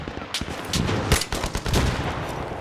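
Rapid bursts of Battlefield 3 multiplayer gunfire crackle in quick succession, dense and loud, with sharp cracks standing out among the automatic rattling.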